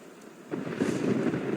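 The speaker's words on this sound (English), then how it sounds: "It's raining cats and dogs. I should have brought an umbrella." After a brief quiet moment, a dense video-game downpour swells in and keeps drumming steadily, with a low rumble underneath.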